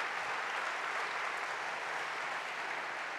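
An audience at a building-industry round-table event applauds steadily, a dense, even wash of clapping from many hands that holds its level for the whole stretch.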